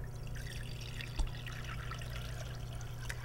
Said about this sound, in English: next we'll fill your container with water